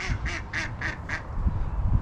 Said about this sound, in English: the ducks are laughing at me